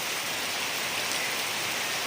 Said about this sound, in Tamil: இப்போ பார்த்து மழை பிடிச்சி வருது. சென்னையில் செம மழை.